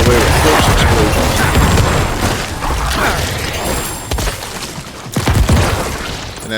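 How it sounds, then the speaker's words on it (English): Necromancer corpse explosions in Diablo IV, a run of heavy booms, crashes and whooshing impacts with mechanical game effects, loud at first, easing slightly, then a sharp burst of blasts near the end, with light talk mixed in. "We're just hammering away with corpse explosions"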